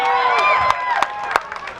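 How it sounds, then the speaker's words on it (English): A comedy show crowd at a youth church festival night cheers and claps, a short dense burst of applause and whoops close by, with voices mixed into the noise. "Round of applause for Nothing!"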